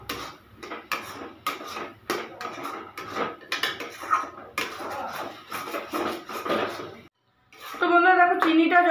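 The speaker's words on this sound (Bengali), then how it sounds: "শুধু নাড়তে হবে, এইভাবে নাড়তে হবে শুধু।" Sugar and grated coconut are stirred in a pan for naru, with a utensil clattering and scraping against the metal in quick, irregular strokes before a voice speaks near the end.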